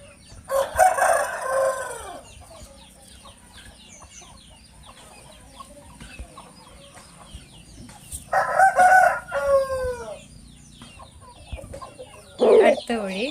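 Aseel roosters at a Kerala poultry farm crow in three separate bursts, one near the start, one midway and a shorter one at the end, each fairly close and loud against a quiet background.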